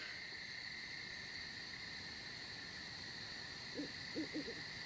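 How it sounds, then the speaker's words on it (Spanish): An owl hoots in the horror video game Baby's Nightmare Circus, a few soft low hoots near the end against a constant high cricket-like nighttime drone. "Ese es un búho."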